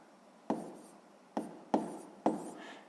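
A pen or chalk taps and scratches out math notation in four quick, distinct strokes, each with a sharp onset and brief fading rasp, close and quiet with no talking.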